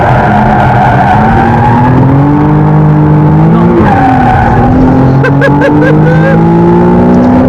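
A McLaren sports car howls at high speed, around 165 to 170 mph, its engine loud and close with tires scrubbing and squealing, and a few sharp rising shifts near the end.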